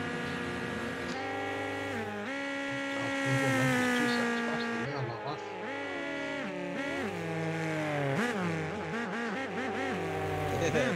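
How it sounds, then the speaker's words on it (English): A buzzy electronic race car engine in the game Wreckfest whines steadily, its pitch rising and falling through gear shifts and revs, loud and continuous. "Oh, this guy's car sounds like shit."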